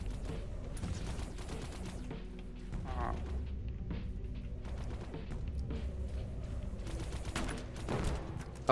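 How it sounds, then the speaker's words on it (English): Gunfire from a grenade launcher in the video game Echo Point Nova, a dense, steady barrage of rapid shots and blasts with mechanical clatter, loud throughout with a brief voice beneath. "Oh, that's a freaking grenade launcher"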